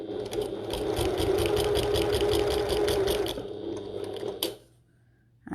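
A sewing machine fitted with a walking foot stitches a fabric bucket tote in a steady, close, continuous run of rapid stitching for about four seconds, then stops abruptly, leaving near silence before a brief bump at the end.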